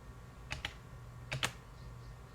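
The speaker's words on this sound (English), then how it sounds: "I'll just hit return here" Keys tapped on a computer keyboard, including the return key: two pairs of quick, crisp clicks, faint and close over a quiet hum.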